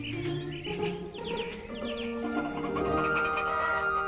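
A rooster in a children's cartoon crows and clucks near the microphone, its calls standing out over light background music.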